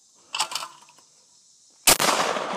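A shotgun fired outdoors, one loud blast near the end that follows a brief earlier clatter and leaves a lingering rumbling echo.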